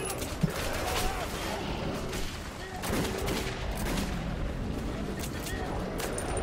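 Rapid gunfire fills a fight in Metro 2033 Redux, continuous overlapping shots with a dull, muffled roar that keeps up steadily from start to finish.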